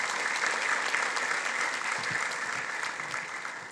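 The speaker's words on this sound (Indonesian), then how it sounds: "Tepuk tangan ini luar biasa sekali" Sustained applause from a large graduation audience in a hall, a thick, steady roar of clapping that holds evenly and then eases off slightly toward the end.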